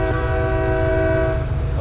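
A freight locomotive horn in the Train Simulator Pro USA video game blares loud and steady, its rich chord held unbroken for nearly two seconds over a low rumble.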